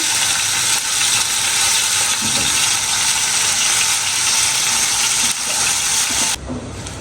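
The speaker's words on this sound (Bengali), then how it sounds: "চিকেনটাকে আমি 5 মিনিট ভেজে নেব শুধু একটু লবণ দিয়ে।" Chicken pieces fry in a pan with a little salt, giving a loud, steady sizzle and hiss that carries on throughout and drops slightly at the very end, with no speech.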